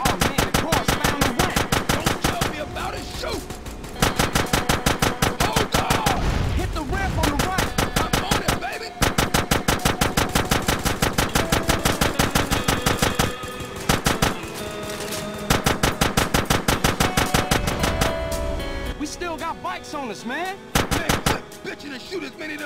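Sustained automatic gunfire in GTA San Andreas, with dense rapid bursts running almost continuously, loud and close, broken by a few short pauses.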